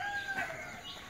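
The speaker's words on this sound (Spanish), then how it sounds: "Ah, están cantando todavía los gallos." Roosters crow in the early morning, their drawn-out calls coming faintly from a distance over a soft, steady outdoor background.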